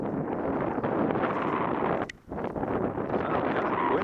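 Wind blowing across an exposed hillside at a slope-soaring site: a continuous loud roar of gusts buffeting the microphone, easing briefly for a moment near the middle before building again, with no talk.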